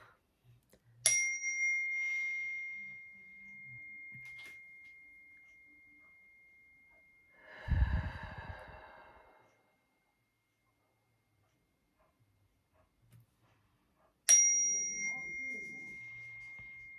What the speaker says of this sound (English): let's begin with 3 chimes